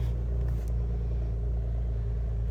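A car passes outside, a steady low engine rumble with a faint rise in revs, holding at moderate loudness for the whole stretch with no voices.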